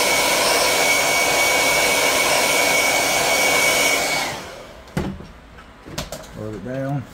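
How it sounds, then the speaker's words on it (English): A hair dryer blows steadily and loudly on fresh spray paint artwork, a broad constant whoosh that cuts off around four seconds in, followed by a few soft knocks and birds cooing in the background. "You're gonna hear a little dryer."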